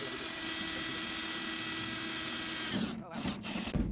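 A power drill fitted with a step bit whirs steadily at a low level for a few seconds, then cuts out amid some handling clatter.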